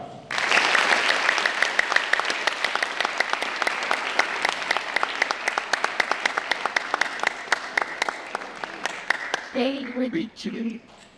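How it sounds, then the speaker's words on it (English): A high school audience applauds a speaker, with loud, sustained clapping and scattered sharp individual claps that thin out toward the end, where a voice briefly begins talking. "And now, a round of applause for Mr. Starck."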